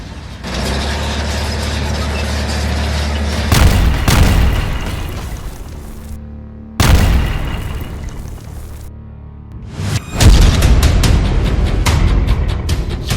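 Heavy booms and explosions from tank fire and bombardment in Gaza come amid continuous loud mechanical rumbling and clanking. Several sudden blasts punctuate the roar, with no voices heard.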